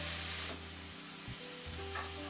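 A steak sizzling in a hot pan, a steady loud hiss with faint crackles running throughout, close and continuous with no voices.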